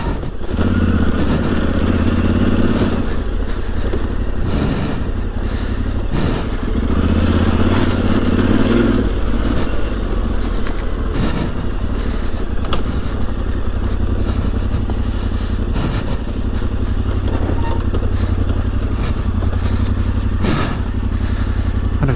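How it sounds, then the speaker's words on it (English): Yamaha Tenere 700 motorcycle engine revving hard and steadily with wheel spin, loud and close, with clattering, thumps and crunching from the tyre on loose ground throughout. "So much wheel spin going on."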